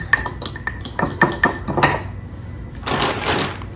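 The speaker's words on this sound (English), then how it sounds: "Still using my fork, just going to give it a stir." A fork stirs chocolate mug cake batter, tapping and scraping against the sides of a mug in a quick series of clinks, followed by a softer, duller scraping stir.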